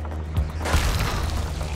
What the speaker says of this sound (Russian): Взрыв.